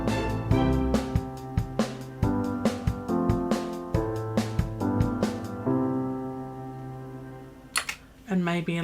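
Orchestral strings from a BBC Symphony Orchestra sample library play back a sustained harmonic passage with the lower parts dropped an octave, chords shifting in even steps and ending with a brief low swell.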